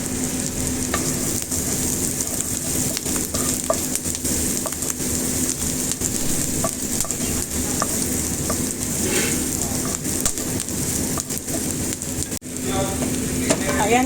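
Onion and garlic sauté in a pan, a continuous dense sizzle with frequent clicks and scrapes of stirring, loud and close throughout with no talking.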